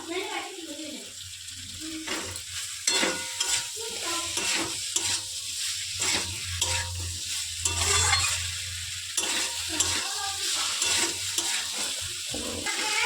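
Salted mixed vegetables with potatoes frying in a pan while being stirred, a constant close sizzle broken by repeated rhythmic scrapes and knocks of the spoon.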